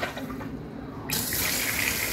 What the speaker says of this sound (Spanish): Observen nuestra mezcladora ya tirando agua.